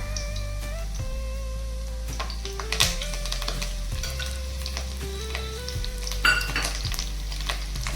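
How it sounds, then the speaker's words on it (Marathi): Curry leaves roasting in a hot pan for a dry toor dal dish give a steady, close sizzle and crackle with a few stirring scrapes and clinks. "भाजून घेऊया आता याच्यामध्ये कढीपत्ता"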